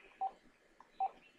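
Two short, clean telephone keypad tones sound about a second apart, with a faint third blip between them, as a phone is dialed in a quiet room with no talking.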